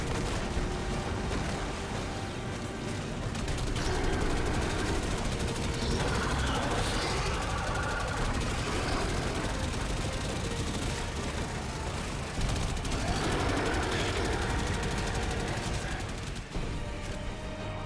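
Rapid, sustained gunfire from the player's weapon in the video game Warframe, dense and continuous across the whole stretch with heavy layered blasts and busy in-game action around it.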